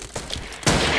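In the blocky shooter Ace of Spades, a short game gunshot bursts out loudly at the end after a moment of quieter game ambience.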